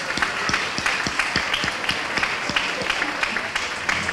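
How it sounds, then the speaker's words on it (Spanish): Audience applause at a local public event, a moderate, fairly thin round of clapping with distinct individual claps in an uneven rhythm, steady throughout. "también se merecen otro fuerte aplauso por todos los que estamos aquí"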